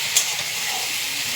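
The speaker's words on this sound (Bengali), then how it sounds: "আমার পেঁয়াজ, রসুন, টমেটো সুন্দর লঙ্কা ভাজা ভাজা হয়ে গেছে।" Onion, garlic, tomato and chilli frying in a pan, giving a steady, close, soft sizzling hiss with one brief crackle near the start.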